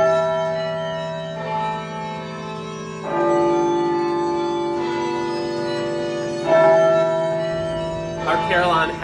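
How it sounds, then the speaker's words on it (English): Duke University Chapel carillon of 50 bronze bells ringing with long sustained tones, new strikes layered over lingering hum and resonance, fairly loud and close. "Our Carillon has 50 bronze bells."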